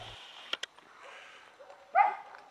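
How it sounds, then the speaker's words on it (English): Dogs at a home in Santiago de Chile during lockdown give a couple of short, sharp barks early on, then a louder whimpering yelp near the end, all fairly faint against a quiet background. "So these are the dogs."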